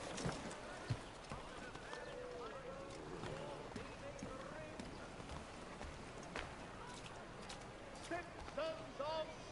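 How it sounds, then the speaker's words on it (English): A horse's hooves clip-clop at a gallop in Assassin's Creed III Remastered, a steady run of quiet hoofbeats with occasional snorts, heard under talking voices and background game sounds. "Get me a horse, there's my horse."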